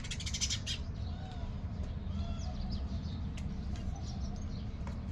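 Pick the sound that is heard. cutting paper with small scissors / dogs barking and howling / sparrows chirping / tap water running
sparrows chirping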